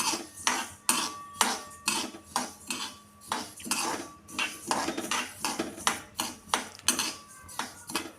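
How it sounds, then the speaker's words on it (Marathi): Flax seeds dry-roasting in a pan while being stirred, with a steady run of clinking utensil strikes and scrapes against the metal. The close, moderately loud hits come in a quick rhythm, with no voice over them. "चार ते पाच मिनिट आपल्याला व्यवस्थित हे जवस भाजून घ्यायचं आहे"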